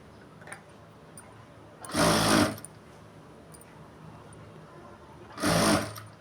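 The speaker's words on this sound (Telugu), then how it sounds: "ముందుగా నేను రెడీ చేసి పెట్టుకున్న హ్యాండ్ని ఇక్కడ పెట్టి ఇలా స్టిచ్ చేసుకుంటూ రావాలి" A sewing machine stitches a sleeve onto a dress in two short, loud bursts of rapid whirring, a few seconds apart, with quiet handling sounds in between.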